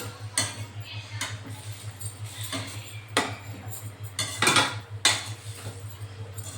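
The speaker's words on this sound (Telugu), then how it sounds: "ఈ రెండు తీసుకున్న తర్వాత ఒకసారి బాగా కలుపుకొని" A carrot and beetroot fry gets stirred in a pan, with a spatula scraping and clinking against the metal in several separate strokes over a low steady hum.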